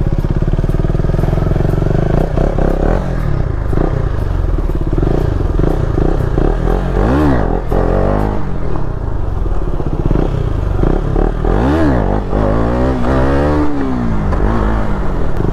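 A KTM Duke motorcycle engine idles roughly and revs up close by, rising and falling through several loud throttle blips with rattling clatter over a constant engine drone, with no talking.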